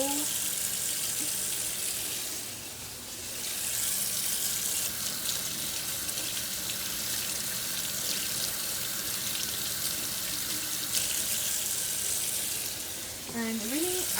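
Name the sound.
tap water running over oxtail meat being washed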